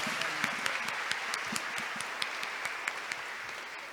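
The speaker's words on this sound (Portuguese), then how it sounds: "Aplauda o nosso Deus vitorioso" A church congregation at an Easter vigil Mass claps steadily together, a dense, even patter of many hands filling the room at moderate volume, with no break across the few seconds.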